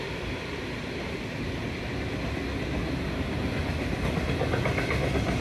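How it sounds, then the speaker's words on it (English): Freight train on the dedicated freight line at Minto Station, Sydney, roaring past steadily with dense rumbling noise and faint rhythmic wheel clatter throughout, close and continuous. "freight trains thunder through carrying containers, steel, grain, fuel, and goods bound for every corner of the country."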